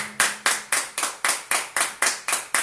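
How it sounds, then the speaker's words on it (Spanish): A church congregation claps in unison, about eleven sharp, evenly spaced claps at a steady rhythm, each crisp and loud with a quick decay, without talk over it. "Dale un aplauso fuerte al Dios Todopoderoso en esta noche."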